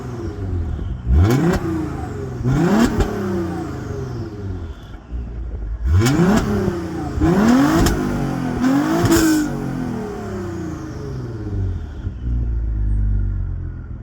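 A modified Audi 2.7 biturbo with the resonator replaced by a straight pipe revs repeatedly, five or six sharp loud blips rising and falling, heard close and alone with engine idle between.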